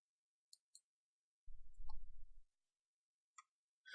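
Computer mouse clicks during placement of a vehicle in the Fuzor design software: a quick pair of sharp clicks, then a brief low hum, then a few more isolated clicks, all faint and close.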